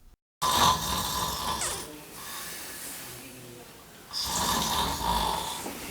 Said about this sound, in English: If you or your sleep partner snoring like this, it's time to call